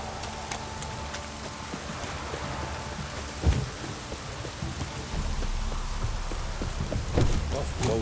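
Heavy pouring rain in The Witcher 3, a steady broadband hiss running the whole time with a couple of louder thuddy bursts, while voices talk over it.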